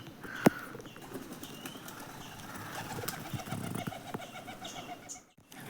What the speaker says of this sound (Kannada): ಸೊ ಇವಾಗೆಲ್ಲ ಅಕ್ಕಿ ಮತ್ತೆ ವಾಪಸ್ ಬರ್ತಿದೆ